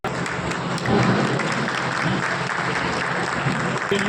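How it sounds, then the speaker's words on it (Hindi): A hall full of people applauding at an Indian honours ceremony, a dense, sustained clapping that holds steady for several seconds, with a faint announcer's voice beneath it. "आप लोग जोरदार ताली बजाइए"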